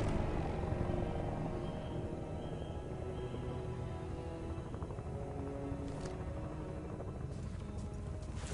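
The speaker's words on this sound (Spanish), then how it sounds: "Helicópteros rusos, tío." Russian military helicopters drone in the shooter Battlefield Bad Company 2 as a low, steady rotor rumble at moderate distance, with faint clatter and no clear talk.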